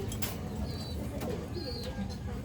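Racing pigeons at a loft during a derby race coo softly and repeatedly, under steady low background noise and a few brief higher chirps.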